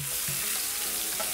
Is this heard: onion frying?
yes